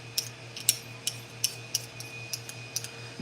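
Quick, light metallic scrapes repeat in an even rhythm, about three per second, close up over a steady low hum.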